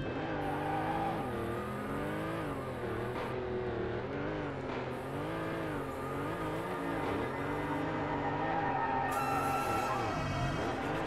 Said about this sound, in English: I appreciate I'm skidding out